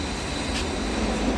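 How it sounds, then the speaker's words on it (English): An airport tram in Barcelona, Spain rolls in with a steady rumble and a faint wheel squeal, constant and fairly close. "So here's the tram coming."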